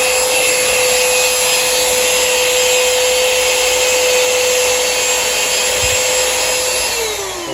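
Steady, loud whine of a cordless handheld vacuum cleaner with a nozzle sucking dust from rails, running continuously up close and easing slightly at the end.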